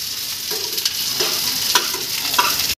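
Lentil fritters (dal bora) fry in hot oil with a close, continuous sizzle, broken by small bubbling pops and faint stirring scrapes throughout.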